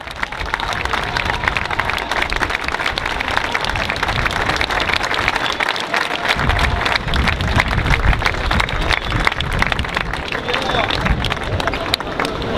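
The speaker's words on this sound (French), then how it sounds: "Applaudissez-les très fort, s'il vous plaît." A large outdoor crowd applauds loudly at the 2013 Montpellier Pride rally, with dense, continuous clapping and cheering that sounds almost like rain and stays strong throughout, mixed with crowd babble.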